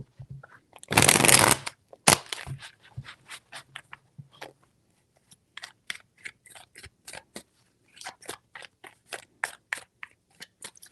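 A burst of card shuffling, then a long run of quick riffles and soft taps in an irregular rhythm, close by.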